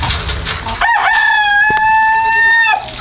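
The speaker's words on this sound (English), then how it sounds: "Fat Smitty, let me hear a cock-a-doodle-doo" A loud rooster crows once nearby, a long drawn-out cock-a-doodle-doo held for about two seconds before cutting off.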